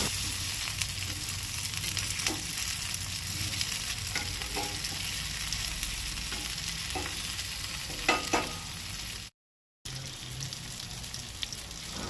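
Red snapper frying in a pan keeps up a dense, even sizzle with soft crackles and a few light scraping taps, broken by a short silent gap near the end.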